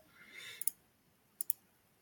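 Computer mouse or keyboard clicks, two quick pairs of sharp, close clicks separated by a short pause over a faint background hiss.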